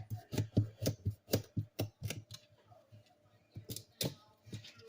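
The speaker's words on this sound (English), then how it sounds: "For the carrots, I'm going to cut the top off, and then I'm just going to cut them down the center." A knife cutting carrots on a cutting board, tops trimmed off and halved down the center, producing a run of sharp, close chopping thuds in quick succession, a pause, then a few more cuts.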